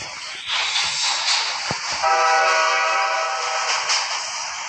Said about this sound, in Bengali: ছেড়ে দিচ্ছে ট্রেনটা, ট্রেন থেকে আমি পালাইতে হবে।